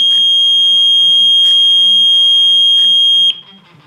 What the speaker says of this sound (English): It's going to check the alarms.